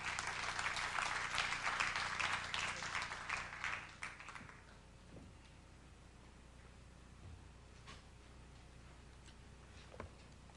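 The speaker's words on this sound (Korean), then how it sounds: "교수님, 한번 박수하겠습니다." Audience applause for a professor at a church mission lecture in Korea, dense and steady clapping for about four seconds before dying away into quiet room noise with a few faint ticks.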